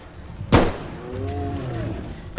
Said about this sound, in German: Schießt auf das, schießt drauf, schießt auf das Ding, wenn er reinkommt